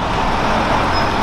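A historic Iveco 490 truck, formerly run by Atesina, at a vintage truck gathering in Trentino, a loud steady road-vehicle rumble close by with continuous broadband engine and traffic noise.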